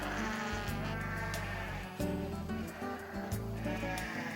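Several farmed goats bleat in overlapping, wavering cries, loud and close, with a buzz of flies around them.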